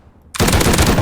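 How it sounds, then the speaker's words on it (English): Sudden burst of rapid automatic gunfire from the survival game Rust erupts after a quiet moment, loud and close, continuing as a dense unbroken volley. "Was that you shooting me?"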